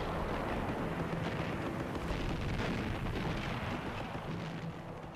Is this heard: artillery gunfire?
yes